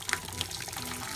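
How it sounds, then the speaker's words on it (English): Hot water poured gently into a pot fitted with a vegetable steamer holding tamales, a soft, steady trickle with a couple of brighter splashes near the start, close and alone. "I'm gonna add the hot water very gently to make sure that it doesn't hit any of my tamales"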